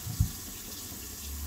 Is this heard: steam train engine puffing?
no